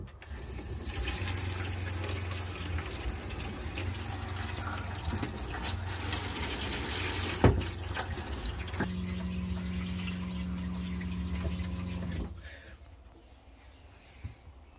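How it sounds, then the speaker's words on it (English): Water from an RV shower head running into a basin, fed by a pulsating Shurflo pump: steady close rushing flow with a low humming pump tone that shifts partway through, then cuts off near the end. "So if I just keep the shower head in the basin and I turn the tap on"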